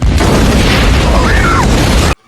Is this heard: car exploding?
yes